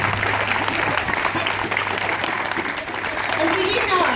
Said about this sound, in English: Can we give one last clap to our sponsors,